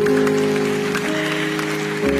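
A church congregation claps for God during an Indonesian sermon, steady dense applause running throughout with sustained music tones underneath.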